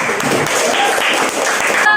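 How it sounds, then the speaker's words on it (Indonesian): A class of students claps together in a school lesson, a short burst of close, dense clapping lasting about two seconds with voices mixed in. "tepuk tangan untuk kita semua"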